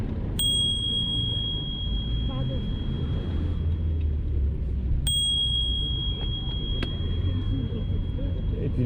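A loud bicycle bell, chosen for everyday city riding, rings twice about four seconds apart, each bright ding lingering over a steady low rumble of passing car traffic.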